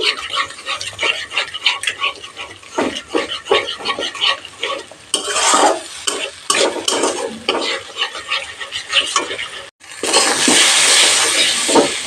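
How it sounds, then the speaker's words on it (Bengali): Spices stir-fried in oil in a pan over medium heat, with loud bursts of sizzling and the scrape of a spatula stirring repeatedly, then a steady louder hiss near the end. "মিডিয়াম হিটে মশলা কষিয়ে নেব তেল ছাড়া অবধি"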